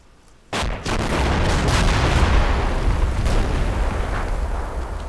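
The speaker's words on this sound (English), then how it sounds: "It actually takes a direct hit from a rocket." A rocket strikes a tank in the wargame Combat Mission: Black Sea: a sudden loud blast after a quiet moment, followed by a sustained heavy rumbling roar that slowly fades, with no voices.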